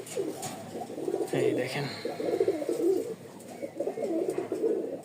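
A pair of red pigeons cooing up close in a loft, repeated low throaty coos in short bursts, with someone talking briefly over them.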